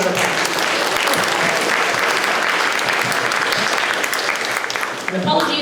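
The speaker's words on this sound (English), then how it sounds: "Let's do one more round of applause." An audience at a talk gives a loud, dense round of applause that holds steady for about five seconds before starting to fade.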